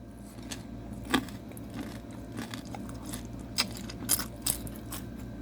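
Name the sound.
biting and chewing vegetable spring roll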